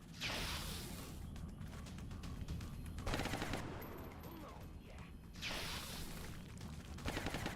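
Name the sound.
gunfire in XCOM Long War video game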